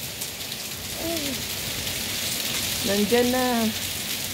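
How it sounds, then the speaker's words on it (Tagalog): Hail falling in Jordan, a dense, steady patter of ice striking surfaces all around, with a voice speaking briefly over it twice. "Umulan na naman ng ice."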